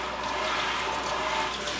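Tap water runs steadily over sprouts being rinsed in a home kitchen, a continuous close, broadband splashing hiss that holds even for nearly two seconds.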